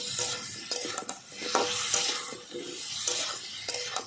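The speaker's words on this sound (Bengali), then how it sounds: "হালকা অল্প দেবো হলুদ গুঁড়ো ভালো করে আমি নাড়িয়ে দিয়ে দেবো এইভাবে" Raw mango pieces with turmeric powder are stirred in a hot pan, the sizzle rising and falling under repeated scraping strokes of a utensil against the pan, close and alone without speech.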